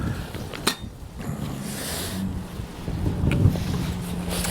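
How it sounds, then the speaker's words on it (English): Wind gusting outdoors on a windy day during a camp lunch, buffeting the microphone with broad rushing noise, a couple of sharp knocks and rustles, no voices. "because it is windy"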